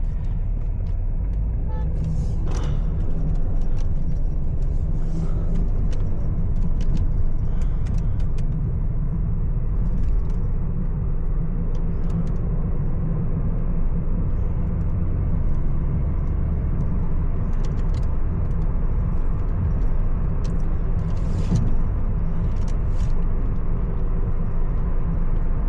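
Car driving in Riyadh afternoon traffic on a windy day, a steady low road rumble from inside the cabin, engine and tire noise continuous with occasional faint clicks and knocks.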